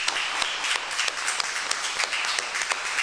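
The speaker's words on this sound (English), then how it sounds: "could we have a round of applause for the three speakers?" Audience applause for three speakers at the close of a panel discussion on the global nuclear order, dense continuous clapping with some sharper individual claps standing out, fairly close and lively.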